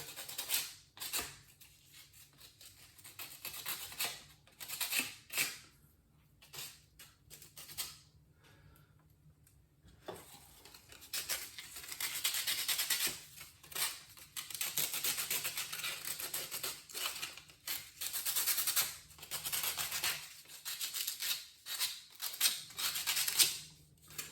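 Burrs being scraped off Estes Crossfire ISX model rocket parts make repeated short, dry scraping strokes, close and quiet, with brief pauses between bursts and no talking.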